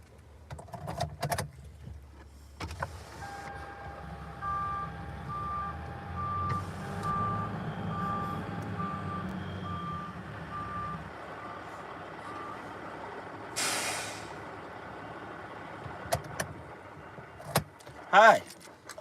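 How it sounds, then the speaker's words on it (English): A big truck's reversing alarm beeps in a steady, evenly spaced run at a distance, while traffic rumbles, keys jangle, a door clunks and people talk nearby. "I got distracted by the big truck over there"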